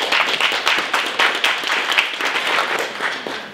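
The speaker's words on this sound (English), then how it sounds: "So a round of applause for them." A breakfast event audience claps, with many distinct hand claps audible in a lively, fairly close round of applause lasting a few seconds.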